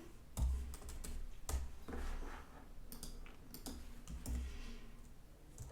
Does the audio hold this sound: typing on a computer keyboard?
yes